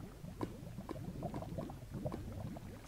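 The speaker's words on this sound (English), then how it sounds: "I hear even water right now" Flowing water in a Minecraft cave makes a faint, steady bubbling and trickling that stays continuous throughout, with no talk.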